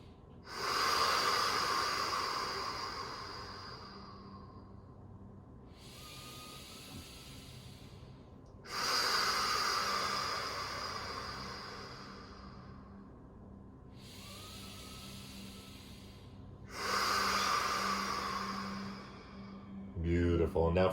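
Slow, deep yoga breaths taken lying on the floor in a core workout, long hissing inhales and exhales repeating about every eight seconds, near and steady, with no speech over them.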